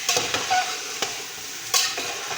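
Spices in hot oil are stirred in a pan, with a few quick scraping strokes over a steady frying sizzle.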